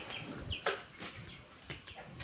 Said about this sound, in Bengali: মুরগিটাকে ধরে নিই